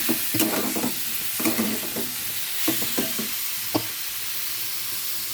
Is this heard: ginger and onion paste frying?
yes